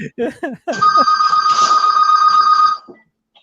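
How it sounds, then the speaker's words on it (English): Many telephones ringing together in a bell-like electronic trill that sustains for about two seconds, loud and close, preceded by a few short vocal exclamations. "There's phones everywhere."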